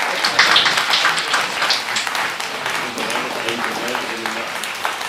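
An audience at a mushaira and honour ceremony gives a loud round of applause, a dense burst of clapping that slowly thins out, with voices over it.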